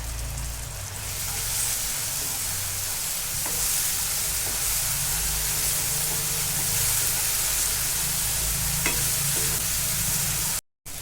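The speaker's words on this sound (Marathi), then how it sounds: "आता यामध्ये मी टोमॅटो प्युरी घालून घेणार आहे आणि छान भाजून घेणार आहे" Tomato puree fries in hot oil for pav bhaji. A loud, dense, hissing sizzle carries on without a break, apart from a brief cut of silence near the end.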